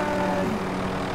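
A video-game helicopter drones steadily and loud throughout, with a continuous rotor-and-engine rumble and no voices over it.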